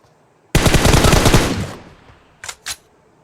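Gunfire in the mobile battle royale game PUBG Mobile: a loud, rapid automatic burst lasting about a second that trails off, followed by two short separate shots a moment later.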